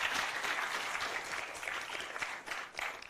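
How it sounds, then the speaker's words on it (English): Audience applause at an Auburn University campus talk on free speech, a moderately distant, steady round of clapping from a seated crowd that carries through without letting up. "So please give yourselves a round of applause"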